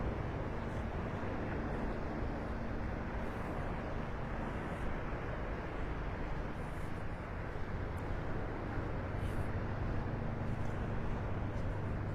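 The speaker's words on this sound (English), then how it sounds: "Can you hear those waves breaking over the sandbar out there?" A steady, broad rumble of surf breaking over a sandbar at Delnor-Wiggins beach in North Naples, Florida, continuous and fairly distant, with no talk over it.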